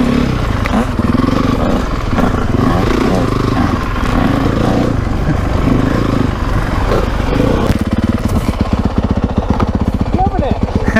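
A vintage Honda CR125 two-stroke dirt bike engine revs hard and close for the full length, a buzzy rasping drone that climbs and falls with throttle, turning more clattery and pulsing near the end.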